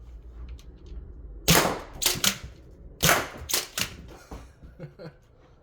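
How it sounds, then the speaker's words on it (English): A Nerf blaster fires foam darts at 250 FPS into panels, several sharp, close cracks in two quick bursts, each followed by rattling impacts, with a low background hum. "I'm gonna shoot 250 FPS on these panels"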